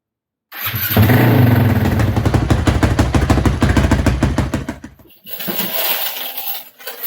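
A motorcycle engine cranks and catches, then runs with a loud, fast, rhythmic thumping idle close by, drops out briefly, and rises again.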